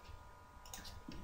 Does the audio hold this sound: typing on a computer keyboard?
yes